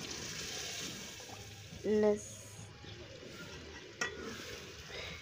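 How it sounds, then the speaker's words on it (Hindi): Okra frying in a pan gives a faint, continuous sizzle with a few soft stirring sounds. A brief tonal sound and one sharp click stand out above it. "हमारी भिंडी फ्राई हो रही है"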